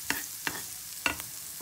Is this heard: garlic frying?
yes